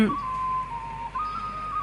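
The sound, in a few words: whistles blown during a river boat festival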